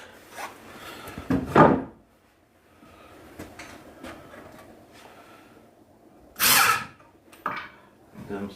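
A drill drives screws into reclaimed wood for a pig feeder trough, with two short whirring bursts separated by quieter shop noise and light handling knocks, the tool close by.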